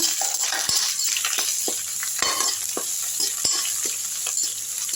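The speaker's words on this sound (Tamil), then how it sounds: "நல்லா வறுத்து விட்டுருங்க இந்த இஞ்சி துருவில் எண்ணெயிலே போட்டுருங்க" Grated ginger fries in hot oil with a steady high sizzle, broken by sharp clicks and scrapes of a spoon stirring the pan at an uneven rhythm, heard close and without voices.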